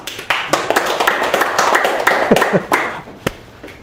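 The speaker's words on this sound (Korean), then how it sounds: "제 말 맞으면 박수 한번 쳐주세요" Audience at a lecture clapping briefly in response to the lecturer, a short burst of sharp, uneven claps close by, thinning out toward the end.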